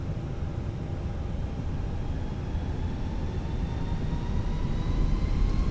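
Airliner jet engines spool up on a Fenix A320 in Microsoft Flight Simulator, a steady loud roar with rising whine tones, heard alone without voices.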